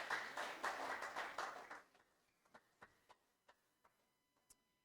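Church congregation applauding in a dense burst of clapping for about two seconds, then it breaks off into a few scattered, separate claps that trail away in a quiet room.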